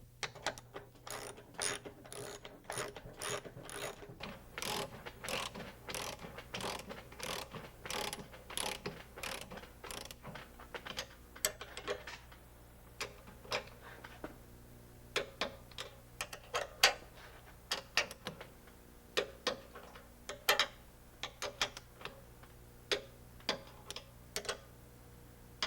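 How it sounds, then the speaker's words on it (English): Ratchet wrench tightening 5/16 inch bolts, a series of close rapid clicking bursts, dense at first and then sparser and more irregular over a faint steady hum. "Install the 5/16 inch bolts and torque them to 14 foot-pounds."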